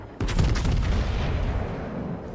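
The French battleship Jean Bart fires a heavy gun salvo in World of Warships: one sudden loud boom, followed by a long rumbling decay that fills the rest of the moment.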